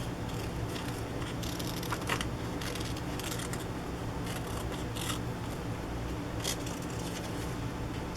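Scissors snip close around a figure cut from a magazine page, a run of quiet crisp clicks and paper rustles in a calm, close setting.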